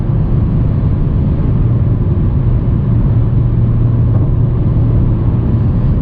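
A 2020 Audi A4 S Line in sport mode accelerates at full throttle on a night road, its engine a loud, steady, droning rumble that holds constant throughout, heard from inside the cabin.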